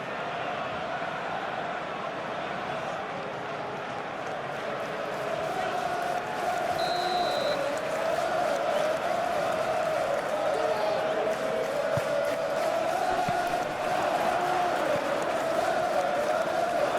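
A stadium crowd in the football video game Football Life 2026 keeps up a steady, loud roar and cheer throughout, a continuous wash of noise with a commentator's voice speaking over it.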